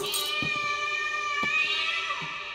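A cat meows several times in a horror video game (Layers of Fear) over a sustained tonal backdrop, each short cry standing out clearly against the steady hum.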